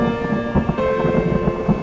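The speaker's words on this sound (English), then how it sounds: "Thunder can be heard as far as 10 miles from the lightning strike." Thunder from a lightning strike rumbles low and continuous under steady rain, with a few heavier booming swells in a short, moderately loud passage.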